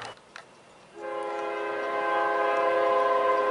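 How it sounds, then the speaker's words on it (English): A northbound CSX freight train, the Q400, sounds a loud, sustained horn that begins after a quiet moment and swells steadily as the train approaches. "we got a northbound CXXQ 400 by Micro"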